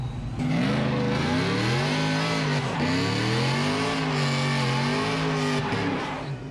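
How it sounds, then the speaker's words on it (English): A loud ProCharged truck putting out about 660 horsepower to the wheels revs hard at a dyno session, its engine roaring continuously and swelling up and down in pitch through repeated throttle blips, close and dominant. "It makes like 660 to the wheels, and it's pro charged and probably the loudest truck out there"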